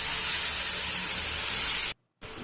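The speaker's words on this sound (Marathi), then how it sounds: "तर भाजी पण सगळी ॲड करून व्यवस्थित परतवून घ्यायची आहे." Finely chopped radish leaves sauté in hot oil with a loud, steady, hissing sizzle that breaks off abruptly for a moment near the end and then resumes, with no one talking.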